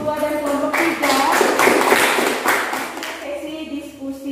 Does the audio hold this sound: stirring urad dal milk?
no